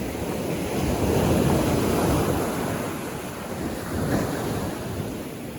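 Ocean waves breaking along a Florida shore, a broad continuous surf roar that swells and recedes twice, with some wind rumble against the microphone and no voices.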